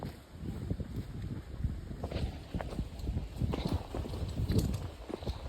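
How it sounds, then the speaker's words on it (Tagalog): Steady clip-clop of horse hooves on a hard surface, close by and fairly loud, with wind noise buffeting the microphone. "there's a horse."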